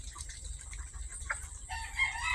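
Backyard chickens cluck and crow on a small farm. The calls are scattered and moderately distant, with a brighter burst near the end, over a low continuous background rumble.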